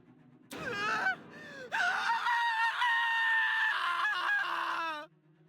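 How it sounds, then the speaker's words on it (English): A video game character in Project Eden's Garden lets out loud, piercing screams: a short shriek, a brief pause, then a long sustained wail of about three seconds that cuts off abruptly. "Kai's scream rang loud and clear in my ears."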